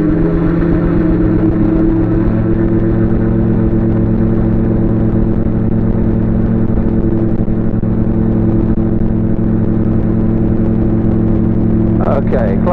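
Gyrocopter engine during takeoff and climb, a loud, steady droning hum from inside the cockpit that holds constant throughout, with talking over it.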